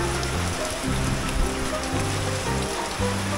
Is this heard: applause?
no